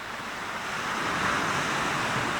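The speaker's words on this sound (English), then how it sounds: "it's the waves. It's the fact that the waves are crashing against." Ocean waves wash against the shore near Inverness under clear skies, a broad rushing roar that swells slightly toward the end, steady and fairly close, mixed with some wind noise.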